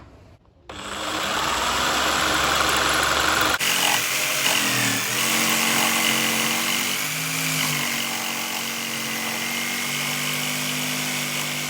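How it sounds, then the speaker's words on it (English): A jigsaw cuts a curve in wood for a tradie's toolbox, starting up with a rough rattling buzz, then running steady and loud, its pitch wavering as the blade works through the bend. "We're going to use the jigsaw to cut this curve out"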